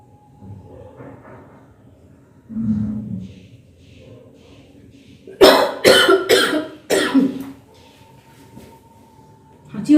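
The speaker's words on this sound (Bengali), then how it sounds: "কাশি হচ্ছে।" A person in a kitchen coughs in a close, loud cluster of about four harsh bursts in quick succession, after quieter murmuring and shuffling.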